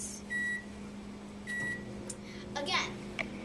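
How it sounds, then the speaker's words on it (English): A microwave oven hums steadily while short beeps sound around half a second and again near one and a half seconds, followed by faint clatter and a brief bit of background chatter near the end. "then you can put it in the microwave"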